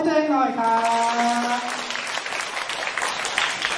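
A crowd at a youth training event in Narathiwat claps steadily, with voices calling out over the applause at the start before the clapping carries on alone.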